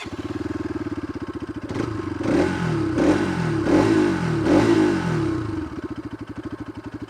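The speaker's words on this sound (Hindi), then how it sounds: "यहाँ पे मैं आपको एग्जॉस्ट नोट सुनाता हूँ।" A Bajaj RS 200 motorcycle engine idles with a steady putter, then revs up in four or five sharp bursts before settling back to a lumpy idle, fairly close.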